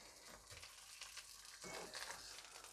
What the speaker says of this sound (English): I wasn't quite expecting them to be sizzling that much already.